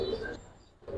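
Pigeons of the Giribaz and Rosa breeds give a brief low coo, close and fairly loud, that fades quickly and then swells again.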